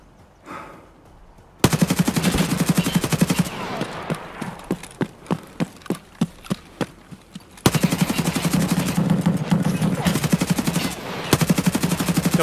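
Submachine gun fire from a PP-19 Vityaz in Escape from Tarkov, with long loud sustained bursts, a stretch of separate evenly spaced single shots, and then another long rapid burst, close and dominant.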